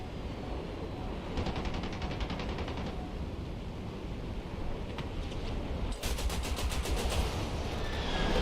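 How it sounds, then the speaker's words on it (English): Enemy gunfire in the War Thunder combat game, rapid bursts of automatic shots rattling in several volleys over a constant engine and wind roar, the last burst the loudest and closest. "Oh, he's shooting at me."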